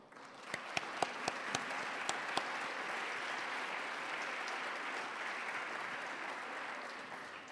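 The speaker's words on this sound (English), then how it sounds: "If you could stand and we can give you a round of applause for helping the program succeed." An audience at a conference session applauds for several seconds, a few sharp close claps standing out early before the sustained clapping fades gently toward the end.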